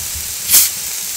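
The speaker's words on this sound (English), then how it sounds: "We're just grilling it on here so we can film this and show you guys." Korean BBQ galbi and bulgogi meat in a regular frying pan lets out a single short, loud sizzling hiss that swells and fades within a moment.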